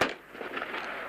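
Three G3 rifle shots fired into the air by Guardia Civil troops during a 1983 Sendero Luminoso confrontation, heard as sharp distant cracks with a noisy, reverberant tail.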